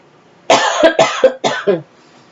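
A person coughs about four or five times in a quick, close, loud burst, then falls silent.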